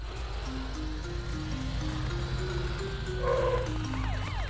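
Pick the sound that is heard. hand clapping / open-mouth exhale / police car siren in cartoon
police car siren in cartoon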